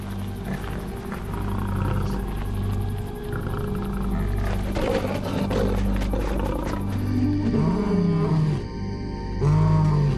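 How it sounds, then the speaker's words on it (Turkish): Lions roar at close range in the wild, deep drawn-out groaning calls rising and falling over a low rumbling background, with a final heavy roar near the end. "Aslanların çıkardıkları 9 farklı ses vardır ama kendi bölgelerini kükremeyle ilan ederler."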